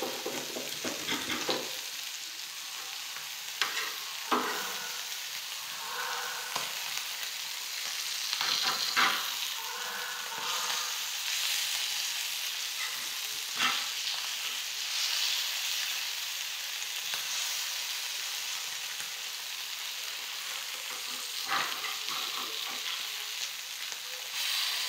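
Fresh puti fish crackle in a pan of hot oil, a constant bright sizzle lasting throughout with occasional spatters and scraping stirs, close and moderately loud, no talking.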